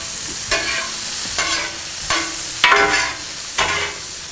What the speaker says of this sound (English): Y'all hear that sizzle?